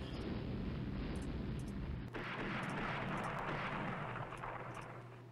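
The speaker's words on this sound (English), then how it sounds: "It's hit with more 14-inch guns." Naval 14-inch guns firing in the video game Rule the Waves, a sustained deep booming roar of heavy gunfire that shifts abruptly midway into a thinner rumbling wash, loud and without talk.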